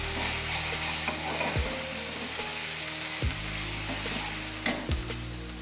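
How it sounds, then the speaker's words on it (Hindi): Ground green peas fry in a pan over medium flame, with a continuous sizzle and periodic scraping strokes of a spoon roughly every one and a half seconds. "और अब हमने इसमें ये हरी मटर जो पीस कर रखी है ये डाल देते हैं। और इसको अच्छे से भून लेंगे हम"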